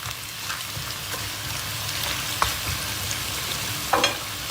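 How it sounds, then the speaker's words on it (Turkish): Onions with black pepper frying hard in a pan for chicken bulgur pilaf, a steady crackling sizzle with a few louder pops and spits near the end, close and alone. "Karabiberli soğanlarımızı biraz yakacağız."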